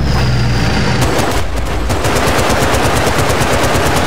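Sustained automatic gunfire from Battlefield Bad Company 2, dense rapid bursts filling the whole stretch, loud and close, with a brief heavier rumble early on.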